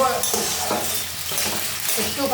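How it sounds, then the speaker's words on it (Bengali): Long-cut potato pieces fry in a pan, a close steady sizzle broken by rhythmic stirring scrapes about every half second. "ভালো করে ভেজে নিতে হবে আলুটা আগে"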